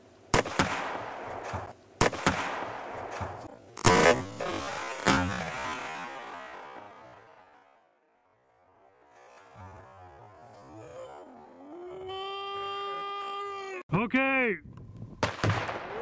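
Gunshots ring out outdoors at a target about 75 yards away in cold, frosty conditions: several loud, sharp reports in the first five seconds that fade off, followed by a quiet gap, an electronic tone and a few more bangs, with brief talk.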